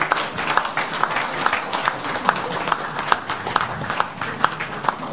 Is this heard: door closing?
no